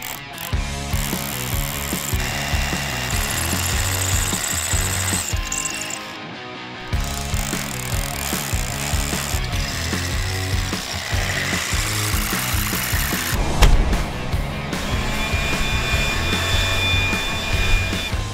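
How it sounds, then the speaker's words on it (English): A power drill boring a half-inch hole into concrete makes a loud, continuous grinding and rattling nearly the whole time, with a brief dip midway before resuming hard. "we drilled a half inch hole in the concrete there"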